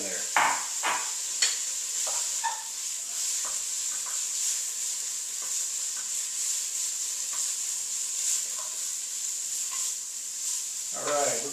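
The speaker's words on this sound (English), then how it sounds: "some hot oil, olive oil in here, and we got a 1/4 pound of prosciutto. So we're just going to get this nice and crispy." A quarter pound of prosciutto crisps in hot olive oil, a constant bright sizzle overlaid with intermittent spoon scrapes and clicks against the pan, close and steady.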